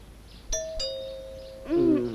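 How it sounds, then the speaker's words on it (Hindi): A doorbell chimes a clear two-note ding-dong, followed by another softer, warbling chime, faint and fairly close. "उठो, घंटी बज रही है।"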